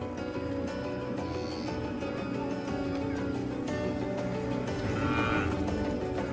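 Cattle low in an open setting in South Sudan, a continuous chorus of overlapping moos from a herd, some near and some farther off, over steady background noise.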